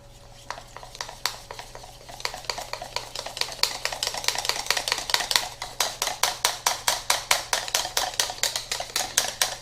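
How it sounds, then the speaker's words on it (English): A plant-based cream mixture is whisked into a smooth paste in a bowl, giving a steady run of sharp, close clicking strokes that start loosely and settle into a fast, even rhythm; nobody talks. "And then we just whisk this together so it makes a nice smooth paste"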